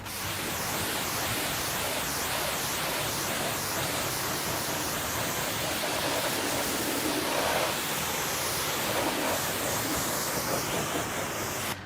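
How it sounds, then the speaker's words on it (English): Water rinsing ceramic coating spray off a car panel, a steady loud broadband hiss of spraying water running continuously without pause and no voices. "And when you rinse, give it a gentle rinse."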